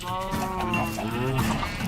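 Minecraft cows crowded into a pen in a video game, giving overlapping, repeated low calls that run steadily through the whole stretch at a moderate level.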